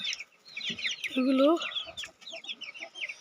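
Chickens at a market cluck repeatedly in short bursts, with one louder squawking call in the middle and a brief spoken word over the birds.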